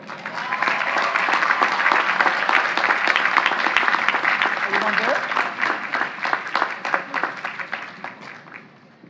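Audience at the 2018 Queens College commencement applauding the valedictorian: dense, sustained clapping with cheers and voices mixed in, steady and loud for most of the span before thinning out near the end.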